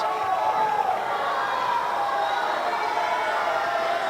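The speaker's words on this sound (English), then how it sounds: "Got the crowd yelling stalling, but no official call yet from the referees." A high-school wrestling finals crowd in a gym yells and roars in a continuous, loud mass of voices as fans call out a wrestler for stalling, with a commentator's voice over it.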